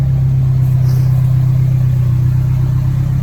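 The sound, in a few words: Nissan 240SX engine revving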